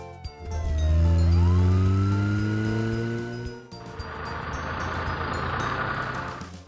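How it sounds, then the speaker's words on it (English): A wailing siren with a smooth rising and falling pitch sweeps loudly, then gives way to a burst of broadband rushing noise. "Police car."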